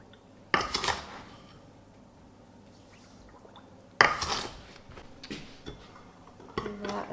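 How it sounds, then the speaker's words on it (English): A spoon works a cup of sugar into kombucha tea with a slimy SCOBY in the jar, giving two loud clattering, sloshing bursts with scraping clinks, then a third shorter scrape after a quiet pause, with no one speaking. "a stir to get it all nice and combined, dissolved"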